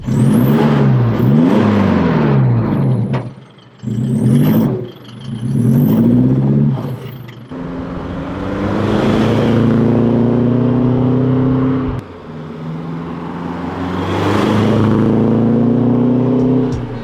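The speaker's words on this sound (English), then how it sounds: "The Legendex exhaust, not only does it sound better, they do come with a 10-year off-road warranty." An Isuzu MU-X fitted with a Legendex aftermarket exhaust revs loudly and close up in repeated rising and falling bursts, then settles into longer sustained, droning revs.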